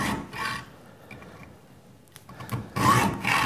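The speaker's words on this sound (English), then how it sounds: "Okay, just a high tension hacksaw. And we'll just make the cut. This should be really mild steel." A high-tension hacksaw cutting mild steel in a workshop, heard as bursts of rasping back-and-forth strokes separated by quieter pauses, fairly close and with no talking.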